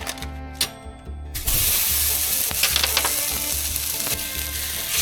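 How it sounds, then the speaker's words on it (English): Mild pork sausage, cut open from its casing, fries in a pan for a casserole: a few spoon clanks and scrapes, then a loud, close, continuous sizzle that keeps crackling and popping steadily. "We're gonna take some mild pork sausage, cut it open, and we're gonna fry it"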